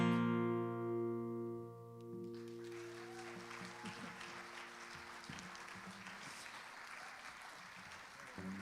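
Audience applause at a Dublin reading event in Tallaght rises after a fading sustained musical tone, a moderate, even patter of many hands clapping that continues steadily to the end.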